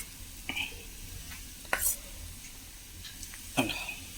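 Grated coconut being sautéed in a pan for a chutney, with a low sizzle and a few sharp spatula scrapes and taps, close by; a voice speaks briefly.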